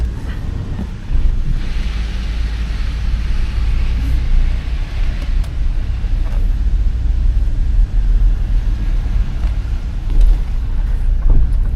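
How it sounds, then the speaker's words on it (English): A 1997 Chevrolet Tahoe engine turns over at about the one-second mark and settles into a steady, smooth idle. It holds a low, even rumble with a little wind noise for the rest of the stretch, and there's no talking. "nice and quiet, no belt squealing, nothing loud, crazy from the motor at all"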